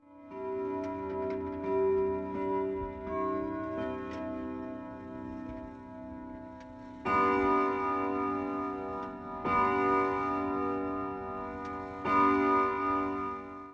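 A clock in the Five Nights at Freddy's video game ticks steadily at the start of a night, then rings out with three resonant chime strikes spaced a few seconds apart, each leaving a lingering ring.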